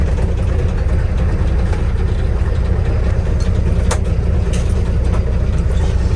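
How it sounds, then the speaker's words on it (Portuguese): A 1969 Ford F100 pickup engine runs loud and close, a heavy low rumble that holds steady with slight rises in revs and a few sharp mechanical clicks, with no voices. "A gente poder fazer uma externinha dela com o motor funcionando."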